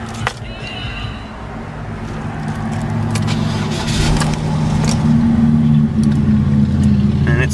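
Yellow car with remote start and over 100,000 miles, its engine idling steadily with a low hum that builds slightly louder, while someone talks over it.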